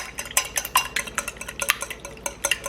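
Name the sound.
whisking an egg in a bowl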